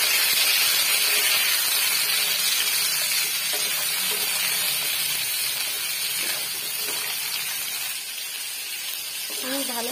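Potatoes and tomatoes hit hot tempering oil in a pan for aloo posto, giving a loud, continuous sizzling hiss that slowly settles, with a voice talking over it.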